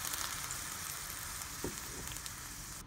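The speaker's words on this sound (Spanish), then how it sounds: "tratando que no se vayan a quemar los chiles, que se dore nada más" Dried chiles fry in a pan, giving a steady close-up sizzle with a faint scrape partway through and no voices.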